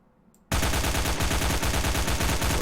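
After a brief quiet moment, an assault rifle in a Unity character controller demo opens up in sustained full-auto fire, loud, fast and evenly spaced rounds that carry on to the end without talk.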